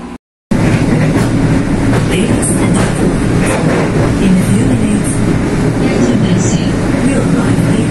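A Rajabasa passenger train runs with a loud, continuous rumble and rattle of carriages on the rails, starting abruptly after a brief moment of silence.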